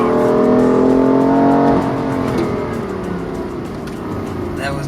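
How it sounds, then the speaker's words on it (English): A BMW M4 engine revs high on a tight road, a loud, sustained mechanical roar that climbs steadily and then eases slightly, with wind and road noise underneath. "it just gets better and better as it revs higher and higher"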